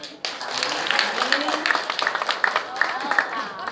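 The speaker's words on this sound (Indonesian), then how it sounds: "Tepuk tangan" An audience at a Balinese drama gong theatre performance breaks into applause, a busy rattle of clapping that starts abruptly and carries on under a voice speaking throughout.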